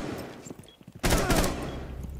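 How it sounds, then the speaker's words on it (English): Gunfire in Rainbow Six Siege: a few scattered shots, then a loud sustained burst of rapid automatic fire that runs to the end, close and dense. "this person is just shooting everyone"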